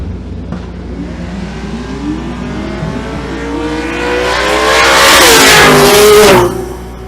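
Drag race cars, including a 1962 Nova, launch at a Rocky Mountain Race Week event at Twin Cities Raceway in Monroe, Louisiana, engines revving and climbing in pitch as they pull away, loud and close before cutting off sharply.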